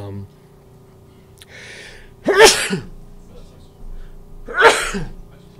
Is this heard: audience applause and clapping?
no